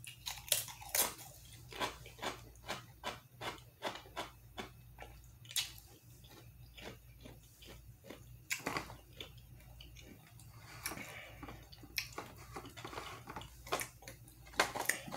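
Someone bites into and chews a crunchy lime-flavoured snack up close, with repeated sharp crunches in an uneven rhythm over a quiet background.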